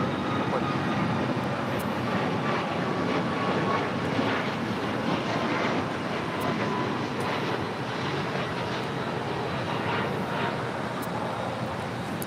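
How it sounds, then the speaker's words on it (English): An Air Canada Boeing 737 MAX 8 takes off at LAX, its steady broadband jet engine roar sustained and fairly distant, with faint radio chatter beneath. "This is Air Canada 555 taking off to Vancouver on a MAX 8"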